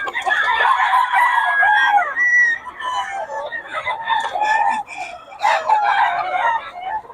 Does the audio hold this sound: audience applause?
no